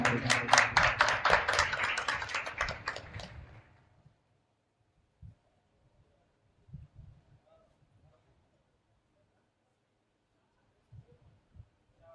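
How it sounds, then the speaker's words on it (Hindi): Applause from a kirtan audience fades out after a few seconds, leaving near silence broken by a few faint knocks and thumps. "एक बार जोरदार तालियां हो जाएं।"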